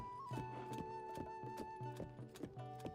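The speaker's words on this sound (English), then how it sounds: "let me just take the horse" Horse hooves clip-clopping in a Zelda video game, a steady galloping rhythm of repeated close hoof beats over a tonal music bed, with no talking.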